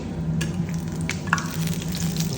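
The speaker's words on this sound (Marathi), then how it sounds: "बघा असं तेलात पहिला ब्रेड अख्खा त्याला ब्राऊन करायचा." A whole slice of bread frying in hot oil gives a steady, close sizzle with a soft bubbling crackle throughout and a few brief sharper pops, with no voices.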